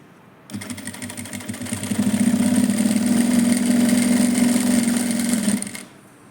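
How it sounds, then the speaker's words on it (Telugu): A small sewing machine stitches thread piping in one continuous run: a steady, fast mechanical whir and needle chatter that ramps up, holds for several seconds, then stops, close and fairly loud with no talking. "చిన్న మిషన్లు అయితే కొంచెం నిదానంగా కుట్టండి దారం తెగకుండా ఉంటుంది"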